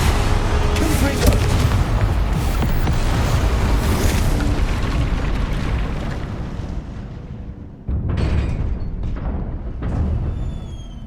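Fiery Confringo spell blasts in the Hogwarts Legacy video game, a loud sustained roar of booming explosions that fades briefly before another burst erupts near the end.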